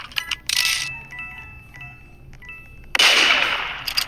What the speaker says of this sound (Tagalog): Uy, may putok na baril.